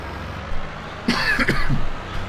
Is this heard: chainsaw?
no